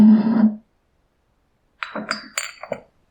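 A glass bottle is handled: a short hollow tone opens, then after a pause a cluster of light, close clinks and knocks as the glass is shifted about.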